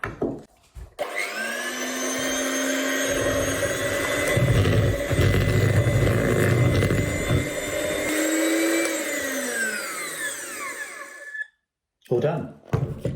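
An electric mixer whirs steadily for several seconds, blending chocolate cake batter with butter, milk and egg, its motor pitch sliding down as it winds off before a short silence.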